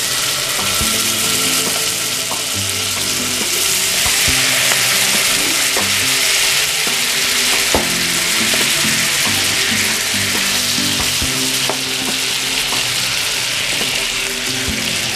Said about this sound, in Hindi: पैन गरम करके बटर को मेल्ट करके सारे चाप को फ्राई कर लेंगे।